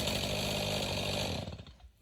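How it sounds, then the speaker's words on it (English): A chainsaw runs loud and steady while cutting into a tree, then its sound drops away as the bar gets stuck in the wood, with no talking. "Tried taking some more out with the chainsaw and ended up getting the chainsaw stuck."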